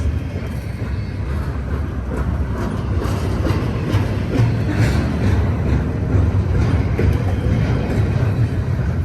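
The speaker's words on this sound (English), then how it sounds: "I think I'm seeing the end of the train." A long freight train passes close by with a continuous heavy rumble and repeated wheel clacks over the rails, loud and unbroken throughout.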